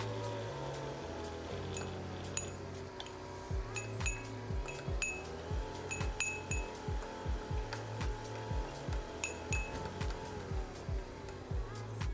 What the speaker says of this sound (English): I'm just going to give this a nice little stir so that it can dissolve evenly